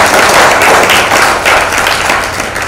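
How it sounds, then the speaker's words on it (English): Panelists at a 21st Century Guyana ICT conference opening receive a sustained round of applause from the audience, a dense wash of clapping that stays steady and fairly loud before easing slightly toward the end. "Please let's give a thunderous round of applause."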